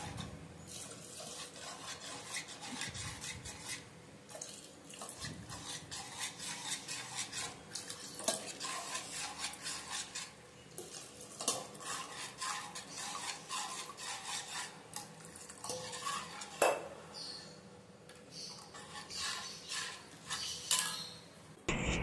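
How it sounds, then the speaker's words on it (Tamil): A spoon stirs ragi flour mixture in a pot, giving faint, continuous scraping and swishing with occasional light clinks of metal on the pot. The sound is quiet and close, with no talk. "கொஞ்சம் கொஞ்சமாக ஊற்றிக்கிட்டே இருக்கணும். கிளறிக்கிட்டே இருக்கணும்."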